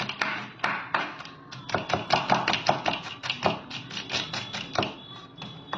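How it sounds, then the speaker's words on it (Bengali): A knife chops onions on a cutting board with fast, steady, close taps, heard while preparing spicy kosha chicken. Each stroke is crisp, and there is no talking. "তার জন্য পেঁয়াজ কুচি করা হচ্ছে"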